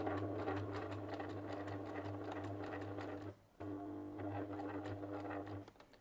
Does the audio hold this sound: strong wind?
no